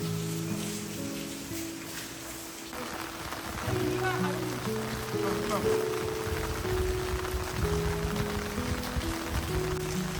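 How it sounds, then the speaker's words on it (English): Rain patters onto a surface under a rural doorway eave in a steady soft wash, while a louder layered tonal sound, likely music, sits on top and swells partway through. "listening to the pattering rain"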